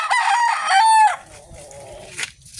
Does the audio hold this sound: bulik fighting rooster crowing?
yes